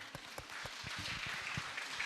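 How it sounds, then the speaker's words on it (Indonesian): A gathering of women at a religious study session claps together, giving a soft, fairly distant patter of hands with a few louder individual claps standing out. "Tepuk tangan dulu ibu-ibu."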